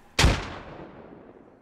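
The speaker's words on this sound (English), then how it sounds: "They're throwing grenades this direction." A single close, loud explosion from a grenade in the military shooter Squad, a sharp boom that decays into a long rumbling tail.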